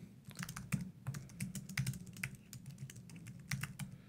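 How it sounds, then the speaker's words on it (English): Steady, close typing on a computer keyboard: quick, uneven runs of light key clicks with brief pauses, no voices. "So you just type in the assignment name."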